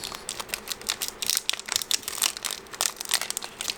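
A foil Yu-Gi-Oh Raging Tempest card pack wrapper is crinkled and torn open up close, giving continuous crackly rustling with irregular sharp bursts and no talking.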